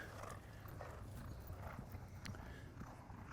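Polo ponies' hooves clip-clop during a polo match, a steady scatter of thuds on turf under a constant crowd and field ambience, with no talk in the clip.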